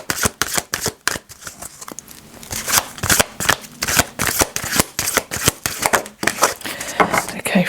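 Soul journey oracle cards being shuffled by hand make rapid, crisp riffling snaps that repeat in quick rhythmic bursts, loud and close, throughout.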